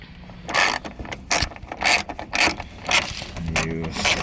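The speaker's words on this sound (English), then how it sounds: "And you ratchet it out." A 10mm ratchet turns out a headlight assembly bolt on a 2006-2014 Hyundai Entourage / Kia Sedona, giving repeated loud, close bursts of metallic clicking in a steady rhythm, about eight strokes, with no one talking.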